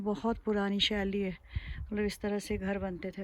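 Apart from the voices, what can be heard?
None of the usual background noises is heard.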